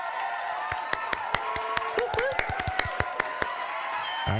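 A canned applause sound effect plays as a run of sharp, separate hand claps over a steady tonal background, close and moderately loud before it abruptly stops.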